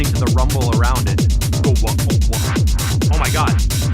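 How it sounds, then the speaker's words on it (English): A music track plays with a steady, punchy kick drum surrounded by a rolling, rumbling low end, the bass tail booming under melodic synth notes throughout. "I feel the kick. I was listening to the rumble around it."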